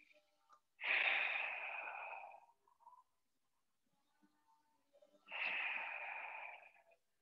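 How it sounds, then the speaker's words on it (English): Two long, slow exhales during a stretching exercise, each breath audible up close for over a second, separated by a quiet pause. "So use your breath. Exhale and open."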